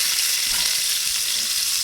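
Biryani spices, onion and tomato fry in hot oil for a country chicken biryani, making a loud, continuous close-up hiss with no voices.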